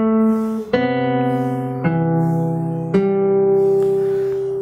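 Acoustic guitar played fingerstyle, a phrase from a piece: three plucked notes and chord changes ring out clearly and sustain between attacks, close and solo with no voices.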